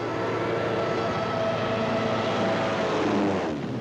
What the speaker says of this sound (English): one of our own inventions, the dive bomber